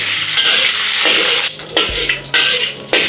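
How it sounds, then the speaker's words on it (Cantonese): Garlic and a piece of ginger sizzle in hot oil in a wok for papaya braised chicken, a loud close frying crackle broken by a few sharp stirring bursts and spatula scrapes. "爆香下啲蒜頭先嚇，落塊薑、"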